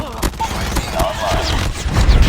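Rapid gunfire from dual pistols in a Call of Duty Mobile ranked match, bursts of shots and impacts layered over game effects, with a player talking over the action.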